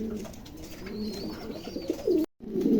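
Pigeons coo softly and repeatedly close by, their low rolling calls continuing over a quiet background.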